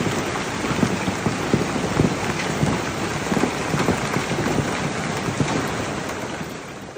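A violent hailstorm pounds Paris, wrecking homes and cars, as a dense, loud, continuous roar of hail and rain hammers surfaces, with scattered sharper impacts throughout.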